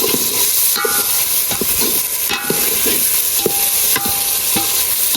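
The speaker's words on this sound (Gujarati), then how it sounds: "તો આપણે છે ને ભાઈ મિક્સ કરી રહ્યા છીએ જો" Eggplant oro being stirred with chopped green garlic in a hot oily pan, giving a steady sizzle under repeated scraping and clinking strokes of the spoon against the pan.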